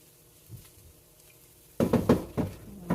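Caramelized onions are stirred in a pan while cooking, and a spoon knocks and scrapes sharply several times near the end after a quiet start.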